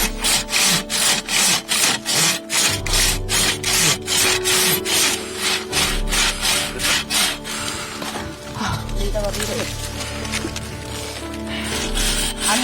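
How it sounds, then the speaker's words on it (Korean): A child cuts wood with a hand saw in loud, close, steady back-and-forth strokes, a rhythmic rasp repeating about once per second throughout. "고사리 같은 손으로 톱을 쥐고 나무를 자르는"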